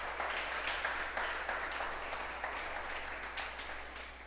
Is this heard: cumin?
no